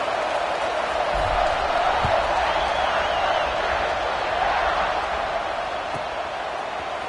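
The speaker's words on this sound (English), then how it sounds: "this crowd is buzzing after that last score" Stadium crowd at an OSU football game keeps up a steady, loud buzz after a score and extra point, with murmuring and scattered shouts filling the whole stretch.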